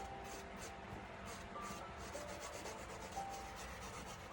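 Light rubbing across the top of a textured acrylic painting, a faint, soft scratchy friction repeating in short strokes, close and alone.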